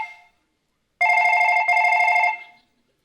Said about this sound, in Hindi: मेरा फोन है।